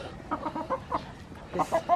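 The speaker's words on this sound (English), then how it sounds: "That's the rooster, Foggy." A silver laced Wyandotte hen and a rooster clucking nearby outdoors, a run of short, rhythmic clucks in two clusters, moderately loud and close, without talk.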